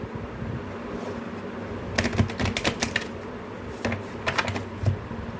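Tarot cards are shuffled by hand in two bursts of rapid, papery riffling and flicking, close and fairly loud over a steady background hiss and hum.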